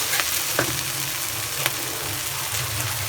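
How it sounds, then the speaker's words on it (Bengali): Fish frying in hot oil in a pan, a dense, steady close sizzle with occasional light crackles and a utensil tap. "তেল গরমে আমি তেল গরম দিয়ে তার আমি মাছ দিয়ে দিয়েছি"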